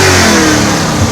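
A supercharged Lexus engine revs hard at a Lexus F car meet, a loud, close, rising roar that climbs in pitch over about a second with no talking.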